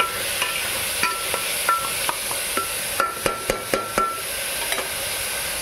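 Onion frying in a pan for dal bharta, a steady soft sizzle running throughout with sharp scraping clicks of a spatula stirring the pan, closer together and louder toward the end.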